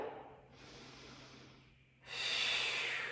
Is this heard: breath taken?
yes